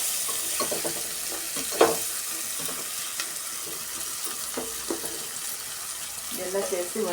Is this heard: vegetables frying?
yes